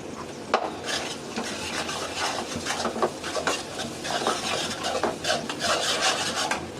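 A spoon scrapes and stirs spice paste of garlic, turmeric, chili, coriander and salt as it fries in a pan, a steady close rasping and clinking with no talk.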